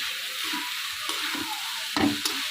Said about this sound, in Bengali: পাস্তার জন্য যে সবজিটা আমি নিয়েছি আর সাথে মাংস, তো এটাকে আমি একটু ভালো করে ভেজে নিচ্ছি